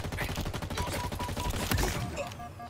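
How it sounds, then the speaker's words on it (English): Rapid gunfire in a video game, a fast, loud automatic burst of rhythmic shots that runs almost the whole time and ends with a few scattered shots and mechanical clicks. "Some solid shooting there."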